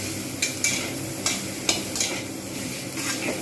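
A spatula stirs and fries dhaba-style soyabean curry masala in a pan, giving a continuous sizzle broken by repeated scraping strokes and light clinks. The sound is close and steady, with no speech.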